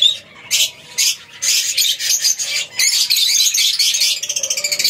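A breeding pair of lovebirds, a lutino Fischer's and an albino masked, squawking and chirping up close in sharp, repeated bursts, ending in a quick run of rapid chatter.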